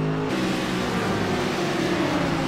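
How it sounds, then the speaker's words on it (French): A Mercedes race car engine in iRacing at Mosport drones steadily at high revs, loud and close throughout, with a sharp shift in pitch near the start and no voices over it. "le très beau son de la Mercedes"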